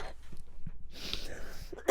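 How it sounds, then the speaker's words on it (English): Two bursts of a harsh throaty smoker's cough spaced about a second apart, close to the microphone, with faint breathing in between. "Smoker's cough."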